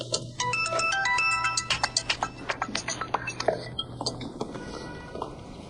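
A phone ringtone plays a repeating melodic ring with steady tones, loud and close, followed by quieter clicking or tapping sounds as the ringing fades.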